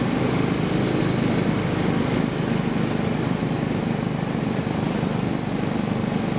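A Royal Enfield motorcycle engine runs steadily in a continuous loud drone with a fine rapid thrum, heard up close during an early morning ride, with no talking.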